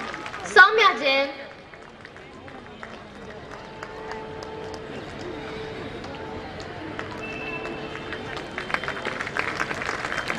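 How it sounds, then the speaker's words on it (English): An audience applauds prize winners at a school Founder's Day ceremony. Steady, moderate clapping runs throughout while a voice speaks briefly near the start. "audience, please keep applauding for the prize winners"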